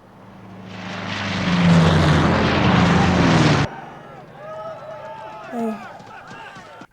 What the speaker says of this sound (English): It was our own planes.